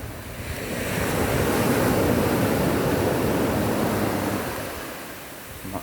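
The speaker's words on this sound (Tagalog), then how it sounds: "Dinig na dinig natin ang alon, ano?" Surf on a beach rushes in a single broad swell that builds, holds, then fades, a steady washing roar with some wind noise and no voices.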